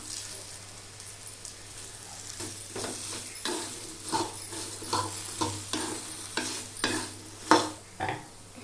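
Potato and beans frying in a pan, stirred with repeated scraping strokes that come in an uneven rhythm over a soft background sizzle, close and moderately quiet.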